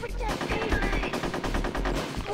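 Rapid bursts of automatic gunfire in the video game Conker's Bad Fur Day, loud and close, a dense stuttering volley of shots lasting a couple of seconds.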